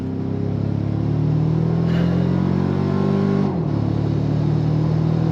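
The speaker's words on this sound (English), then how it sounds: "I love the sound of that snorkel" Engine of a 2025 Toyota Tacoma Trailhunter accelerating through its snorkel intake during a U-turn, a loud, steady, close drone whose pitch climbs and then drops at a gear change partway through. No one talks.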